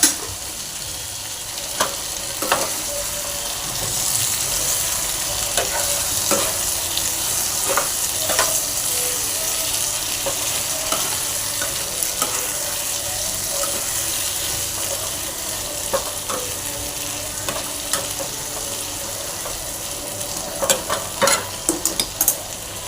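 Spice masala with ridge gourd roasts in oil in a pan, a continuous loud sizzle with repeated stirring clinks and scrapes throughout, no talking.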